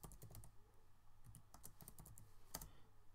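Computer keyboard typing while playing Minecraft: a quiet, close run of irregular key clicks in short bursts and pauses, with no talking.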